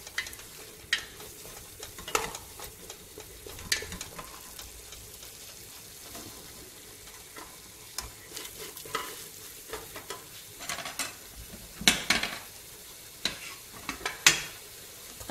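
Pieces of beef and tripe fry in a pan for a Kabyle-style dish, a soft steady sizzle broken by repeated scraping stirs, the louder scrapes coming in irregular bursts.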